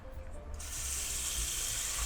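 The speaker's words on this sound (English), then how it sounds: "And I am going to fill this with water," Tap water running into a cooking pot, a sudden steady hiss of filling water starting after a short quiet moment, close and moderately loud.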